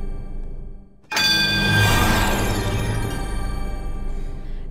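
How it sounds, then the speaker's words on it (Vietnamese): Bright bell chimes sound on a televised Vietnamese quiz show, Road to Olympia, ringing out loud and sustained with a long decaying shimmer after a brief hush, and no voices over it. "Lần lượt 4 tiếng chuông,"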